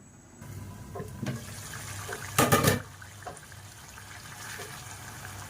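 Water is splashed into a pan of spicy baila fish curry with potatoes, a brief hissing, gushing burst of under a second amid a quiet kitchen background.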